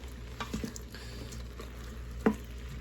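Meat browns in an Instant Pot before beef broth goes in for soup, with a faint low sizzle, occasional soft stirring scrapes and one sharper clink.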